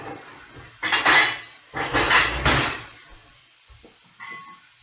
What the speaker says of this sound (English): I had to put my dishes away